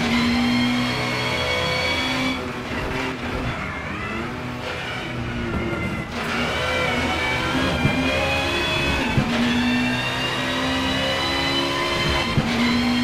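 A Peugeot 406 BTTC touring race car lapping the circuit with its engine at high revs, a loud steady drone interrupted by brief dips as it shifts gears and lifts off, running nearly continuously throughout.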